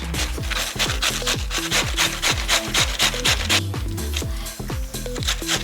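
Fresh cabbage rasped by hand against a grater for sauerkraut, with steady rhythmic scraping strokes, about two per second, close and fairly loud throughout with no talking.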